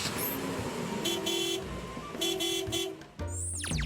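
A car drives past on a street outside a house, its engine whooshing steadily while the horn honks twice in short toots, then a longer passing sweep at the end.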